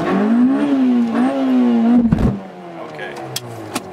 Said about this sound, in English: we go for our burnout.